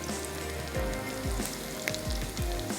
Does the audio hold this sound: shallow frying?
yes